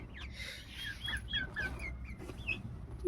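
Soft, rapid clucking and chirping calls from young turkeys, several short notes close by over a low background hum.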